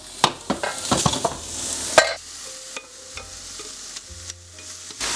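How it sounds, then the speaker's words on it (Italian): Prosciutto browning in a frying pan for a spaghetti frittata, with sharp stirring clatters and spatula scrapes over a steady close sizzle, quieting after the first two seconds. "faccio rosolare il prosciutto nella padella"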